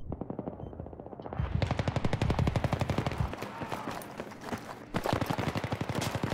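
Rapid automatic gunfire rattles in long continuous bursts, loud and close, with a brief pause before firing resumes.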